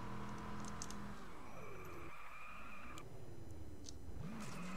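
A light rear-drive car, something like a BMW M3, skids and slides in the game Just Cause 2, with tire squeal sweeping up and down over a droning engine and no voices.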